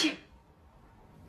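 A single sharp sneeze bursts out at the very start, loud and close, then drops away into quiet room tone with faint background noise.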